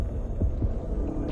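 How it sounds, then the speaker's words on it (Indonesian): A heartbeat sound effect from the shark game Depth, two soft low thumps a fraction of a second apart over a steady droning underwater hum. "Ada suara-suara deg-degan."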